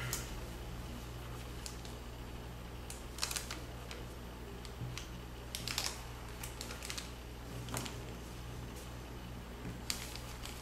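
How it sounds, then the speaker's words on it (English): Paper being folded and creased for an origami tree frog, soft crinkles and sharp little crackles scattered over a steady low hum, close and fairly quiet with no voices. "Now fold the bisector here."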